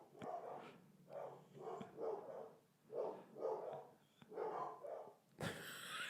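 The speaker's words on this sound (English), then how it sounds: "So you think they're barking at nothing because you knocked on the table." Several dogs bark in repeated, rhythmic volleys after a knock on a table, muffled and somewhat distant indoors, followed by a sharp bang at the end.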